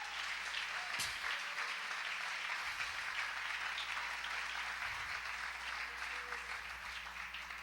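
Congregation applause at a church worship service, a dense, steady clapping that fills the whole stretch at an even level without pause.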